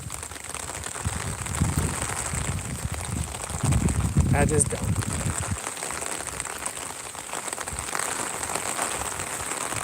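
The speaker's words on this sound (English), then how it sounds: "I'm the only fool out here walking around in the rain." Steady rain pattering on surfaces outdoors in a quiet neighborhood as someone walks through it, a continuous wash of drops heard close, with someone speaking briefly over it.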